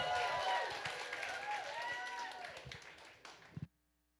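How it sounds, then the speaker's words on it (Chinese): A church congregation bursts into applause and cheering for performers during a worship service, with loud clapping and raised, shouting voices that fade before cutting off abruptly into silence. "我们一起用掌声加我们的尖叫声来支持他们"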